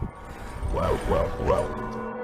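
A dog barking behind a cyclist during a chase, three quick close yelping barks in a row over a rushing background.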